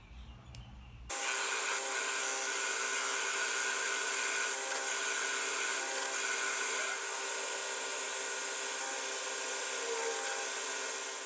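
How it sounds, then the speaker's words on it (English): A steady high-pitched motor whine of a drill press drilling holes in wood, running continuously, loud and close, with a faint start-up moment at the beginning. "I drilled the holes using the drill press"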